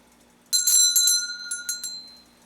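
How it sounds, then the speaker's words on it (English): A bell is rung indoors during an interview, giving a bright metallic ring with a couple of quick repeated strikes that decay over about a second and a half, alone with no talk. "I should ring the bell before I forget."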